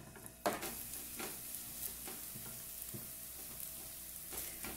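Potatoes fry in olive oil in a pan for a Swiss-style potato dish, making a quiet, steady, close sizzle broken by a few soft scraping knocks.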